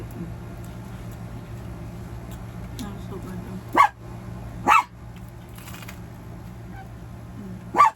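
A dog barks three times, short sharp single barks spaced a second or more apart, over a quiet humming background.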